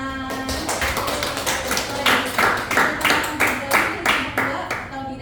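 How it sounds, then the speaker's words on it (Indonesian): A classroom audience claps together after a group's presentation in a teaching session, with a dense run of hand claps for about five seconds. "Beri tepuk tangan."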